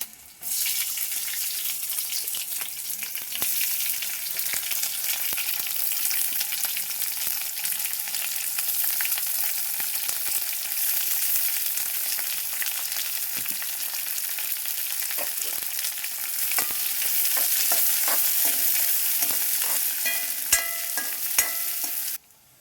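Sliced onions fry in hot oil with curry leaves and green chillies for a tomato fry, giving a steady, close, loud sizzle with scraping stirring throughout and no voices.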